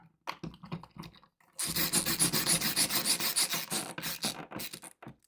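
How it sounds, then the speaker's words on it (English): A screw driving an electrical wall box against drywall makes a rapid ratcheting, grinding rasp that tightens into a burst of quick scratchy clicks, close by, between softer handling noises. "you hear that cinching up against the drywall"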